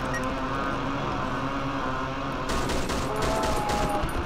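Dense, continuous gunfire from the horror video game Cry of Fear roars close and loud for the whole stretch, a sustained barrage of rapid shots with no gaps.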